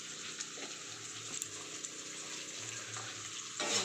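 Chopped onion frying in hot oil, a steady soft sizzle and crackle running through the whole stretch, moderately close, with a brief louder flare near the end.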